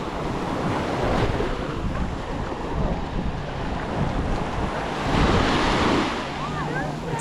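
Waves roll onto Samae Beach on Koh Lan island in Thailand, a constant loud surf wash mixed with heavy wind buffeting the microphone, swelling slightly at moments.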